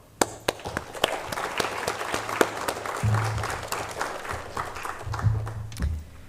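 Audience applause at a conference, with individual sharp claps standing out at first before building into a steady, moderately loud round of clapping, with a low hum or murmur under it.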